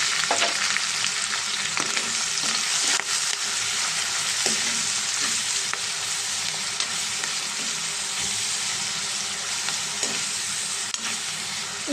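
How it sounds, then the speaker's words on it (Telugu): Onions with turmeric fry in a pan for a tomato curry, giving a loud, continuous close sizzle with occasional stirring scrapes and no talking. "ఉల్లిపాయలు కొంచెం బ్రౌన్ కలర్లో వచ్చే వరకు ఫ్రై చేద్దాం"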